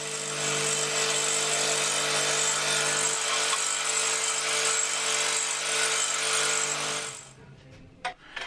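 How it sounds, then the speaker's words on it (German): A band saw cuts through a wooden jig whose guide rail rides in the table's T-slot, giving a loud, steady whining drone for about seven seconds before the blade runs out of the cut and the noise drops away. "Dazu setze ich die Führungsschiene in die T-Nut des Tisches und säge die Vorrichtung,"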